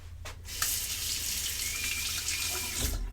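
Tap water runs steadily into a sink to rinse a razor during a shave, a close, hissing stream lasting about three seconds with a brief splash at the start and end and no talking.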